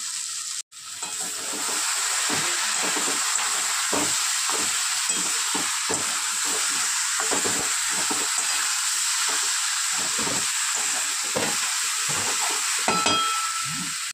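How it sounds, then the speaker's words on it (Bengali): Cauliflower and prawns with garam masala sizzle and fry steadily in a pan, a continuous hiss with scattered stirring scrapes and taps throughout, close and fairly loud, with no talking. "খুব ভালো করে কষিয়ে নেব।"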